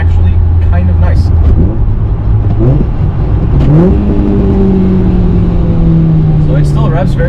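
A Honda GD3 with a new clutch and slightly heavier flywheel, engine loud and close, rising in revs and holding a steady drone while someone talks over it.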